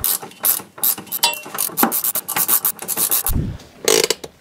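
A ratchet wrench tightening the cable adjuster on a Renault Twingo, loud and close, a steady run of rapid metallic clicks in short strokes with a brief low thump near the end.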